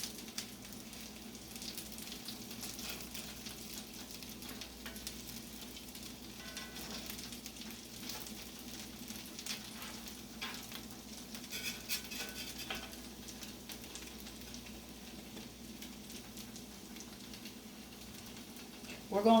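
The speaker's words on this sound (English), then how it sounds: "We're going to let them fry a little while" Salmon patties frying in a pan, a continuous faint crackling sizzle that stays even and steady throughout, heard from a short distance with no talking over it.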